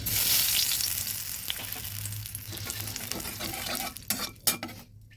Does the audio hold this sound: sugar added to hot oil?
yes